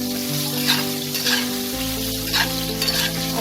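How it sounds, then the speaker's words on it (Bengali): Diced potatoes fry in hot oil with cumin seeds, a steady close sizzle broken by a few soft stirring scrapes, with no talking. "আলুটাকে আমি হালকা ব্রাউন করে ভেজে নেব"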